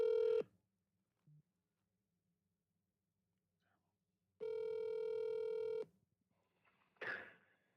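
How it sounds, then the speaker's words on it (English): A telephone ringing in a quiet room, two long electronic ring tones separated by silence, followed by a brief breathy voice. "Answer the phone, Steve."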